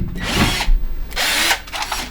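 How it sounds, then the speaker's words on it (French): A power drill whirs in two loud, close bursts with a short pause between, as a car is prepared for low-cost drifting. "Regardez ce qu'ils viennent de me donner pour percer."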